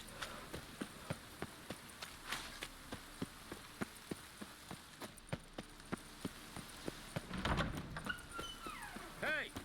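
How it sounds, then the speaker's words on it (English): Rain falls in The Witcher 3 as a steady wash of noise behind a regular, rapid series of hoofbeat-like thuds, with a brief louder burst near the end. "And it's raining again."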